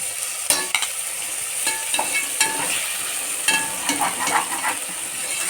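Chopped tomato with onion and ginger-garlic paste sautéing in a pan for egg biryani, a steady close sizzle with repeated scraping clicks of stirring throughout, no talk.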